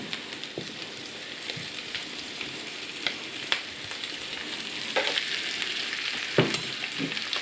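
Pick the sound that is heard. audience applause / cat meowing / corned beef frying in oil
corned beef frying in oil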